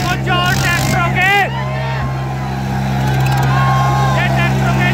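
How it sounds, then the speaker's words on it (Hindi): Tractors straining against each other in a tractor tug-of-war contest at a village event, a steady heavy engine drone with revving under a loud excited crowd and shouting voices. "ये ट्रैक्टरों के जोर भाई"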